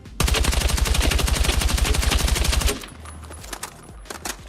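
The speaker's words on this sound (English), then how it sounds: "Now we'll shoot forwards and backwards whilst controlling." Rapid automatic gunfire from a weapon in Battlefield 6, a loud steady burst of closely spaced shots lasting several seconds, then a few scattered quieter shots as the firing stops.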